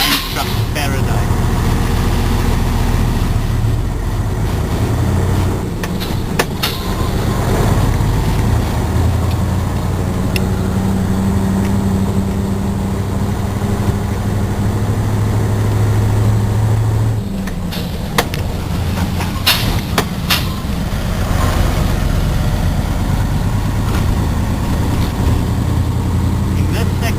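Mining trucks running continuously nearby, a steady loud low engine rumble and drone throughout, with faint voices in the background.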